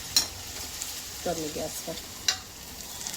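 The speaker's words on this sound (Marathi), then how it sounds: "इकडे आपलं असं मस्त पनीर पण मस्त तळत आहे इकडे" Paneer frying in a pan makes a quiet background sizzle, with a few utensil clicks and a brief spoken phrase partway through.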